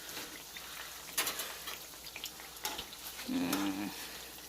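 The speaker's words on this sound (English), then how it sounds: "Look at that sizzle." Low, steady crackling and popping of pickles frying in hot grease, fairly quiet, with a few sharper pops and a brief faint voice near the end.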